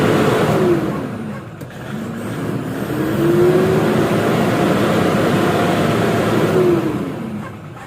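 A noisy Toyota Hilux engine with low power and warning lights on the gauge panel revving to around 3,000 RPM, loud and close, the pitch rising and falling in several sustained pulls.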